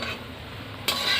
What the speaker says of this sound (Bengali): এবার নাড়াচাড়া দিই, একটু জাল হবে হালকা